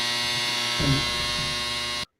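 A clothes dryer drones with a steady buzzing hum in the room, holding level before cutting off abruptly, with a brief muffled voice partway through.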